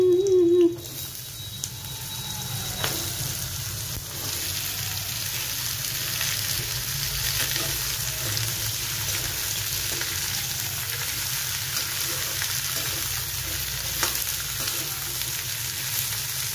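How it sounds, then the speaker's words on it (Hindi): Hot oil sizzles and crackles steadily as cumin and chili temper, after a brief clatter at the start, a continuous frying hiss close by with no talking. "जीरा और मिर्ची का तड़का लगा के"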